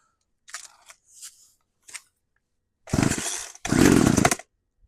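An old chainsaw unused for years is pulled to start on full choke: a few short ripping cord pulls sputter, then the two-stroke engine catches and roars loudly up close in two strong bursts.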